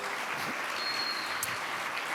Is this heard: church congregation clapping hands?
yes